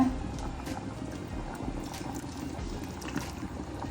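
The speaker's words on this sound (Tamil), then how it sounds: "இதுக்கு மேலே கொஞ்சம் தண்ணி விடுவோம்" Water poured into a cooking pot of rice for fish biryani, a steady continuous splashing pour running throughout without any talk.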